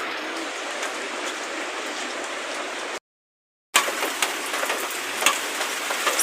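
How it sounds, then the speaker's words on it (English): Rain pours steadily over the Kibra slums during a flood, a broad, even hiss of falling water that drops out briefly in the middle, then resumes with scattered louder drops. "you can see how it's boring when it's raining here at slums"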